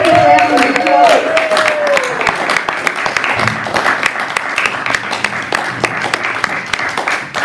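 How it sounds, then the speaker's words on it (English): Audience at a church talk breaking into a round of applause, loud and sustained clapping that starts over a voice finishing a sentence and continues as a dense crowd patter. "Can you just give a round of applause?"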